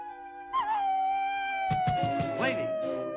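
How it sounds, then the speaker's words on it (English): A Cocker Spaniel puppy in an animated film howls and whimpers in a long, sliding, drawn-out cry over a steady tonal background, rising into several quick yelping bursts near the end, with no speech. "despite the small doggy's howling"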